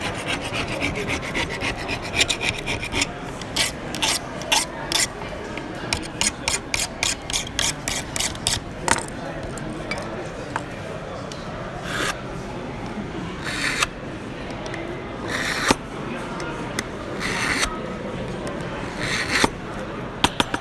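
Butter knife drawn across a sharpening tool at a prepper show, giving repeated rasping strokes in quick bursts over a busy background of crowd noise.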